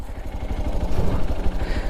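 A scooter engine runs loudly and roughly up close, straining up a steep slope, chugging with a steady low throb throughout.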